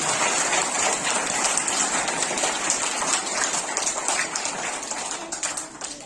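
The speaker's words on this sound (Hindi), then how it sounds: "जोरदार तालियां इनके लिए।" A school crowd applauds a Class 9 student at a 2022 Class 10 farewell ceremony at The Vision Public School, Itkhori, a dense, loud wash of many hands clapping that holds steady and eases slightly near the end.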